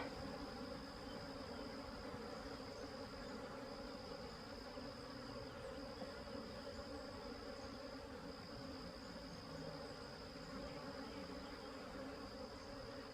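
Dense, steady buzzing of many bees swarming close by at an open hive in a backyard beeyard, a continuous insect drone with no voices.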